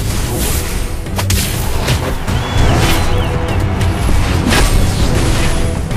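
A turret is destroyed in a Mobile Legends match, with loud layered booms, whooshes and impact effects over a constant game soundtrack.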